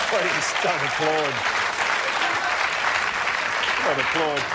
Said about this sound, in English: Don't debase yourselves by applauding that.